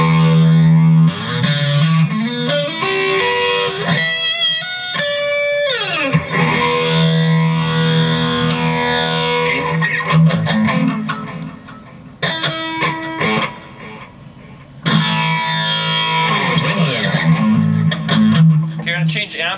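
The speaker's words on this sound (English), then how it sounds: "Change amps now for this phaser sound." An electric guitar is played through a phaser effect into a Peavey VIP-2 amplifier; chords and single notes sweep and swirl with a whooshing modulation, loud and close, in phrases broken by brief pauses.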